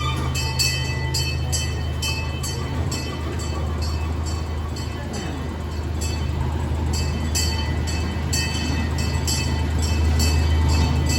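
An amusement park ride train at Indiana Beach rumbles steadily along its track with rhythmic clacking and a faint bell-like ringing, loud and continuous throughout.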